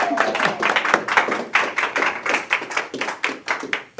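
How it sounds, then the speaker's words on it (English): A small workshop audience on buildings and climate change claps after a presentation, the individual claps distinct and close, forming a brisk, slightly uneven rhythm rather than a dense wash. "We'll do a round of applause."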